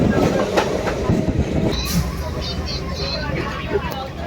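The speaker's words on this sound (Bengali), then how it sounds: "1 মিনিট লেটে ছাড়লো শিয়ালদা থেকে আমাদের ট্রেন" Local train running from Sealdah toward Namkhana, a steady loud rumble with rhythmic rail clatter throughout, voices and passenger chatter mixed in the background.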